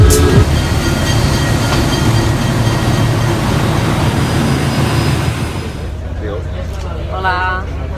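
Rumbling interior of a moving train in Peru headed to Aguas Calientes, with steady rattling and hum, fading near the end as voices begin talking over it.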